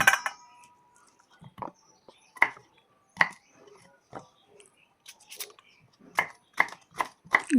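Knife chopping tender jackfruit into small pieces on a cutting board, with a dozen or so separate crisp close chops spaced irregularly, some in quick pairs.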